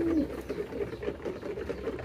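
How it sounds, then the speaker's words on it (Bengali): Newly arrived pigeons coo in low, rolling throaty calls, repeated a few times at close range in a loft, with faint background noise and no clear talk. "নতুন কবুতরগুলো দেখেন ডাক"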